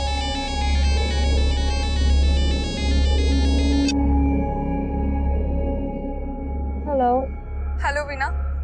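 A mobile phone rings with a repeating electronic ringtone for a few seconds and then stops, over a steady low rumble, followed by brief voice-like sounds.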